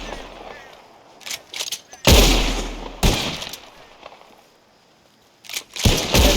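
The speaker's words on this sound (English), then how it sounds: "Whoever shoots more of these bottles wins. Just draw your gun and aim when you're ready." Several sharp gunshots in Red Dead Redemption 2 as pistols fire at bottles in a shooting contest: scattered cracks, two loud booming blasts in the middle and another burst near the end, with faint background noise between.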